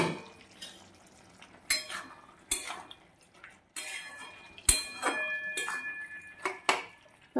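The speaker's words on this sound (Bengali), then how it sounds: "ঢাকাটা খুলে দেব।" A metal lid is lifted off a cooking pot of spinach curry, giving several sharp clinks and clatters of metal on metal spread through a quiet kitchen, close and fairly light.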